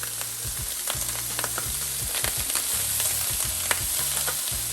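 Lentils tipped into a frying pan with mushrooms and garlic for a lentil risotto and stirred, with a steady loud sizzle and repeated scraping strokes of the spoon against the pan, close up.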